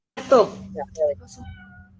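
A cat meows a few times nearby, a clear rising call followed by shorter mews, in a quiet room with no one speaking over it.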